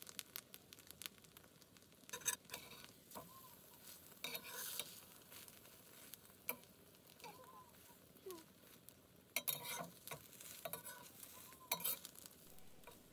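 An egg fries in a pan and ends up slightly burnt. A soft, steady sizzle runs throughout, broken by occasional scrapes and clicks from stirring or turning. All of it stays quiet and close.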